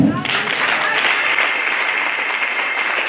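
A congregation at a Christmas Eve church service applauds Jesus, a loud, steady wash of many hands clapping together, close and sustained throughout without a break.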